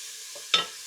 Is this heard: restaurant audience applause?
no